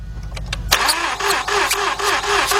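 A 2006 Mazda 6 engine cranks steadily without catching, the starter motor whirring in a loud, even rhythmic churn that kicks in after a brief quiet moment and continues to the end.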